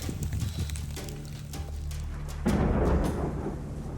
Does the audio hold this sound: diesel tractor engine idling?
no